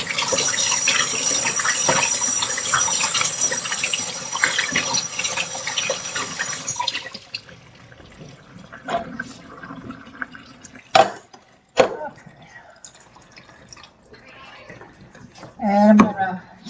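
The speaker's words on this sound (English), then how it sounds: "I want to rinse my beans" Canned beans rinsed under a running kitchen tap give a steady hiss of flowing water for about seven seconds, then stop, followed by scattered clinks and handling noises while a person talks.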